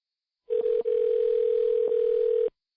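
A steady telephone ringback tone plays over the line while calling a bowling alley, one continuous note lasting about two seconds, clear and alone.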